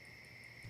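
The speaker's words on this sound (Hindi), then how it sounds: "तुम चिंटू को फोन लगाओ।" A phone number is dialed on a telephone, quiet steady keypad tone that swells louder near the end, with no voices.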